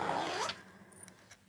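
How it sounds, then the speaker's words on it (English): A zipper slider is run off the end of the zipper tape on a boxy cushion cover, giving one long, loud rasping zip followed by a few faint clicks and taps. "I do need to take the slider off all the way to the other side"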